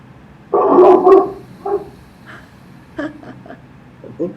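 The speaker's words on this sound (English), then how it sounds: "The big dog." A big dog lets out a loud, close bark pair, then several softer yips and whines trail off over a quiet room background.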